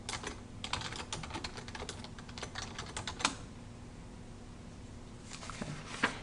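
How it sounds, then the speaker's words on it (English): Rapid clicking of a computer keyboard as a letter is typed, with bursts of keystrokes and a few louder taps, close and clear with no talking. "we enter twice after that, and we type Dear Miss Song"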